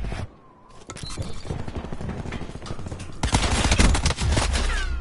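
Rapid gunfire from a first-person shooter video game crackles in dense repeated bursts, quieter at first and then louder and heavier toward the end.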